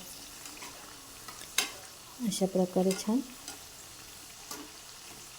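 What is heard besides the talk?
bread pakoda frying in oil in a kadhai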